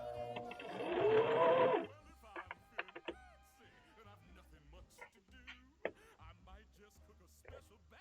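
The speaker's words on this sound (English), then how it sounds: "Sewing things like this, you gotta like move it around." A sewing machine stitches fabric in a loud, steady whirring burst of about a second, followed by scattered clicks and handling noises as a person talks.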